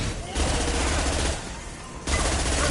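Sustained weapon fire in the video game Mass Effect 2, loud continuous automatic bursts that break off briefly and resume, with game voices underneath.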